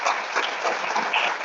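Loud, close applause from the audience at a book presentation, many hands clapping in a dense, uneven patter that fills the whole moment without any talk.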